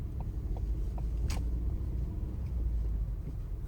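Learner driver's car moving off up a steep hill toward a roundabout, a low steady engine rumble heard from inside the cabin with a faint click or two, no talk.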